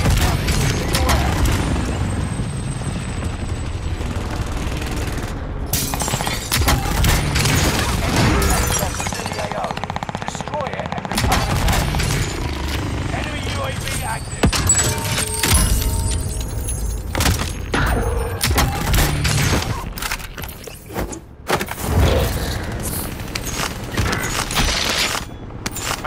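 Gunfire and explosions from an airstrike in Call of Duty Modern Warfare, Plunder mode, with dense bursts of sharp cracks, booms and rattling debris over a busy, continuous battle din. Voices occasionally come through.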